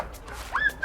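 Sled dog at the Iditarod race start in falling snow, giving a short rising whimper and yip, fairly faint against outdoor background noise.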